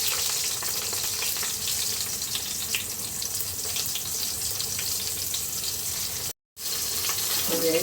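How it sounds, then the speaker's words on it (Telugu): Tomatoes frying in a pan give a strong, steady, close sizzle, briefly cut to silence near the end before the frying resumes. "ఇప్పుడు టమాటా వేస్తున్నాను."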